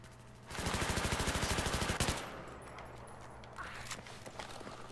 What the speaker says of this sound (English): I shot a guy.